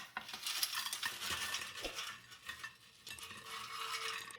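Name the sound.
air fryer basket released, curly fries put on a plate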